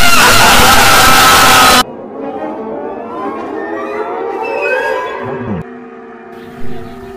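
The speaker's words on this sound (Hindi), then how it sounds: "अबे चिल्ला क्यों रहे हो?" People scream inside a stalled car in a horror film: a loud, harsh burst of shrieking for nearly two seconds, then a quieter stretch of muffled, wavering voices.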